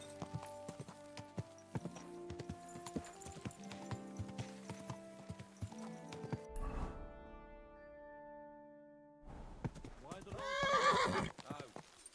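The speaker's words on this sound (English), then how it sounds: "Easy, good horse." Horse hooves clip-clopping and a horse whinnying in the video game Kingdom Come Deliverance 2, with rhythmic hoofbeats over musical tones, a pause, then a loud whinny near the end.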